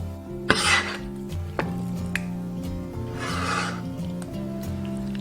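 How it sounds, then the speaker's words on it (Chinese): A knife slices small blocks of firm tofu on a board, making a few soft taps and two longer scraping strokes under steady background music, with no talking. "准备几块老豆腐切片"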